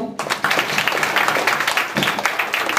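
A school audience claps for a student's third-place prize in musical chairs, with dense, steady clapping that fills the whole moment and faint voices mixed in.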